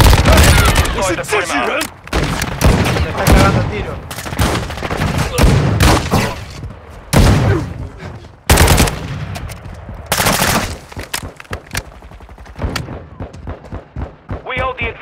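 Loud, close automatic weapon fire and explosive booms from Warzone Mobile, with rapid bursts and heavy impacts coming in dense waves and a voice calling out over the shooting.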